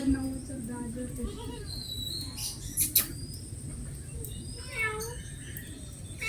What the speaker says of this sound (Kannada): ಬೆಂಗಾಲ್ ಕ್ಯಾಟ್.